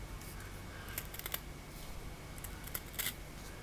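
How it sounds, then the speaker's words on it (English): Sharp scissors trimming the edge of hook-and-loop velcro strip on a LiPo battery, giving a few quick, crisp snips close up over a low steady hum, with no talking. "with a sharp pair of scissors, I basically go along and just trim along the edge"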